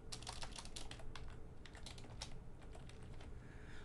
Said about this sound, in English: I'm going to create variables that only exist in this child.